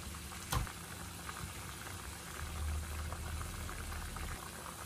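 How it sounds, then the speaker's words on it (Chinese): Winter melon meatball soup boiling in a pot over high heat, a steady low bubbling and rumble that stays faint and close, with one brief knock near the start. "这里可以开大火慢慢的给它煮，把肉丸子全部给它煮熟煮香"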